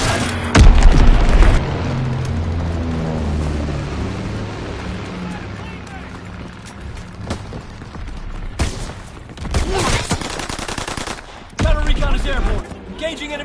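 Azon bomb dropped during a PS4 video game, with loud booming blasts near the start and again late on, between stretches of game music and other in-game effects.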